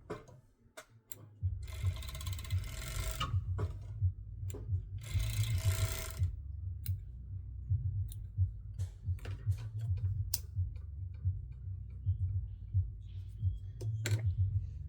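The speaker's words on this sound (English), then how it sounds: "I'm just gonna serge mine on a few times." A serger stitches elastic onto a pants waistband, whirring in two short runs with scattered mechanical clicks and ticks between them, close and fairly quiet.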